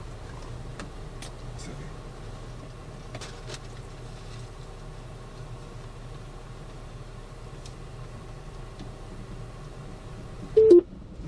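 Telephone dialing tones during a phone call, a short burst of keypad beeps near the end over a quiet background hum with faint scattered ticks.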